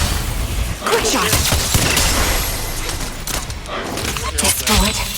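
Gunfire in a video game comes as a rapid burst of sharp shots, followed by further crackling bursts and impacts, all fairly close and loud, with talking underneath.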